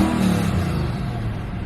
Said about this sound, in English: We'll give it a nice little fun rev.